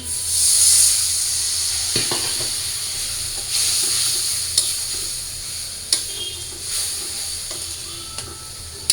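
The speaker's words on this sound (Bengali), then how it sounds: "আলুগুলোর মধ্যে সব মশলা দিয়ে দিচ্ছি, এখন একটু মশলাটা কষাই আমি" Potatoes coated in spices fry in a pan with a loud hissing sizzle that swells and eases, broken by intermittent sharp clanks and scrapes of a spoon against the metal.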